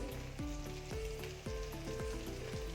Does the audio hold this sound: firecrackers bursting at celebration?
no